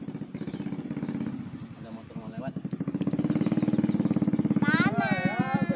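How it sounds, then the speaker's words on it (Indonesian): A motorcycle passes along a narrow footpath with a close, chugging engine pulse that grows louder and revs up, while people call out over it. "awas, Dek. Motor mau lewat."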